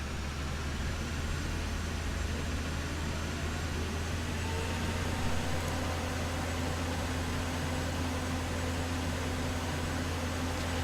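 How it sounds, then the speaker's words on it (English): A combine harvester chopping straw in the video game Farming Simulator 2013, a steady, unbroken mechanical drone and whir of engine and chopper, even and continuous throughout. "I'm just chopping the straw"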